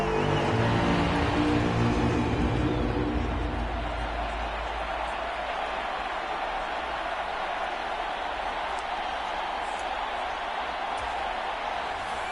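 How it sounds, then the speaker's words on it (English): Dense, steady roar of a large stadium crowd in the video game Madden 24, loud and continuous, swelling briefly at the start before settling into a sustained wash of noise. "A big play here as the crowd noise rises."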